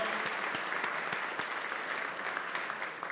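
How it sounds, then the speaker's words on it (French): Steady applause from a seated audience at an honorary-table introduction during a suppliers' and contractors' business day, dense clapping sustained evenly from start to finish at moderate distance. "on peut les applaudir"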